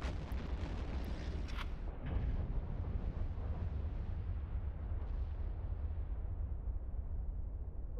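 Bombs detonating in the space game EVE Online, a dense rumbling wall of overlapping explosions with a sharper boom near two seconds, steady and loud throughout with no talking.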